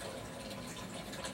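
Warm water runs steadily into a container to wet a post-op short leg cast, a continuous close hiss and splash with no break.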